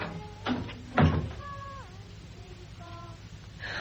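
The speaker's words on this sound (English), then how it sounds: "I'll shut the door." A wooden door in a draughty old house swings and closes with two soft bumps, the second a firmer thud, followed by a quiet room with faint ambient sounds.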